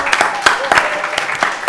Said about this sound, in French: On l'applaudit s'il vous plaît, Monsieur le maire.